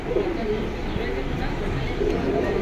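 Pigeons coo at a pigeon stall in Jinjira Bazar, Keraniganj, making low, soft repeated coos under a dense, noisy market background.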